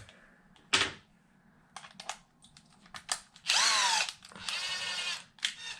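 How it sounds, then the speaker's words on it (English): Short bursts of a cordless drill driver whirring, several brief pulses with pauses between, the longer runs rising in pitch, close and fairly loud, working on a Losi Super Baja Rey 2.0 RC truck spare tire mount. "Take my driver,"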